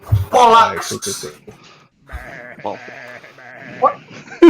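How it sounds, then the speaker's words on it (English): Sheep in a VR video game bleat loudly and close, several wavering calls over a few seconds, with people talking over them. "These sheep are amazing."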